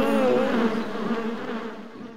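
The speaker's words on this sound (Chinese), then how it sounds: "天哪，蜜蜂！" Bees buzz in an animated cartoon, a close, loud droning hum that wavers in pitch and slowly fades.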